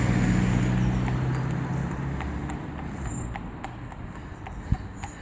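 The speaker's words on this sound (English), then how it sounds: "This is Sophie's second ride on Harry, on a horse that inherently bolts and runs away from bit pain." Slow, uneven hoof clops from a horse moving at a walk, set against a steady outdoor background hum, with one sharper knock near the end.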